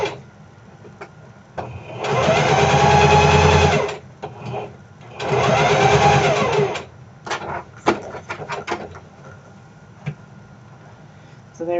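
Sewing machine stitching fabric around a neckline in two steady bursts of a few seconds each, with shorter start-stop runs and soft handling noise between them as the garment is turned under the needles.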